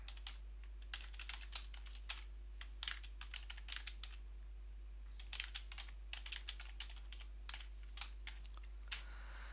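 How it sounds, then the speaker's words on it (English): Fingers tap on a computer keyboard in quick irregular bursts of soft clicks, close and quiet over a low steady hum, with no one talking. "I type something"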